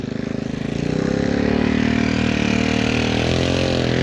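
Tractor pull engine roaring loud and close at a tractor pull show, steady heavy low drone that builds in the first second and holds with harmonic rumble, no voices over it.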